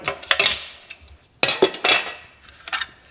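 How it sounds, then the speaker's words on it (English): Plastic faceplate snapping off a new 4-gang power point as the sides are squeezed, giving a few sharp close clicks and clacks in short bursts with quiet gaps between. "remove the cover just by squeezing the sides and popping off the faceplate"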